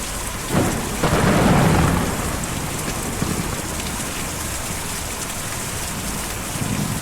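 Thunder rumbles early, then heavy rain keeps pouring, a steady dense hiss on surfaces that fills the scene in the Kentucky Route Zero video game, with no voices heard.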